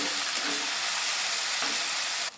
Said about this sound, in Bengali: এবার আমি এর মধ্যে আদা রসুন লঙ্কা আর একটা টমেটো পেস্ট করেছিলাম সেটা দিয়ে দিচ্ছি এবার আবার একসাথে মিশিয়ে ভালো করে কষাবো